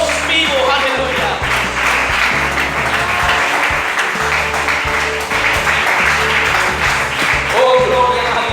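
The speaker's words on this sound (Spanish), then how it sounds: "Si quiere ver ese aplauso al Señor, esa alabanza" A church congregation applauding during a service, continuous loud clapping under music with a voice over it, lasting the whole stretch.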